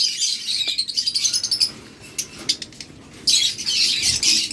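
A pair of lovebirds chirps in quick, bright bursts, the calls close and fairly loud, thinning out briefly midway before a dense flurry of chirping returns.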